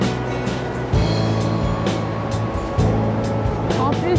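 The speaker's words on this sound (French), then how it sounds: "l'eau, elle vient vers nous, de la cascade la supérieure" Roaring spray and rushing water from the upper cascade of Iguazu Falls, a loud, steady wash that stays constant throughout, with broadband hiss and a low rumble.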